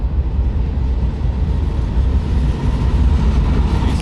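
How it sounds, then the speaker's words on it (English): A heavy, continuous low rumble of a train passing nearby on a trestle at Lake Pontchartrain, loud and steady with no pauses. "There's the train."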